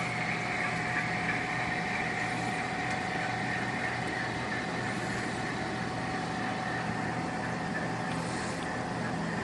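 An HO scale model train runs along the double-track main line of a model railroad layout, giving a steady, continuous motor hum and rolling rumble with no breaks.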